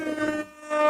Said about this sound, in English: Oh, why is the air horn stuck?